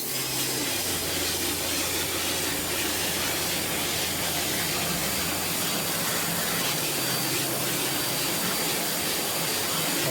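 A pressure water spray blasts steadily across screen printing screens being reclaimed, a loud continuous broadband hiss with a low rumble underneath, running unbroken throughout.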